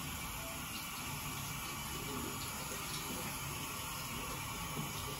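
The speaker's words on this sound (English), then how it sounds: "Rinse hands with water." Water runs from a tap while hands are rinsed, a steady, even splashing hiss that continues without a break.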